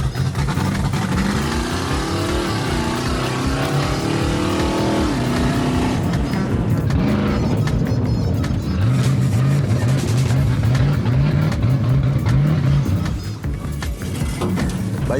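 Engine of a Renault car in a racing video game, droning loud and steady as it accelerates through rising gear pitches, with the occasional voice underneath.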